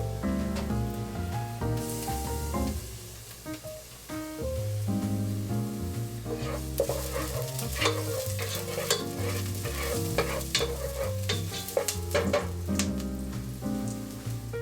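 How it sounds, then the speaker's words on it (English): Vegetables and grated garlic sauté in a pan over low to medium heat for spaghetti bolognese, giving a soft continuous sizzle with occasional stirring scrapes under steady background music. "I'll saute these for about a minute or so on low to medium heat"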